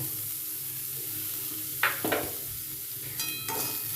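Spices fry in a pan with a constant close sizzle, broken by a few sharp scrapes and clinks as they are stirred and mixed.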